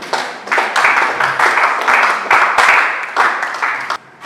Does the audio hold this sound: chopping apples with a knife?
no